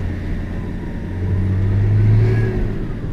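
A warm BMW 325tds diesel car, without glow plugs in use, revs while driving, a loud low rumbling engine note that swells midway and then eases back, heard close and alone.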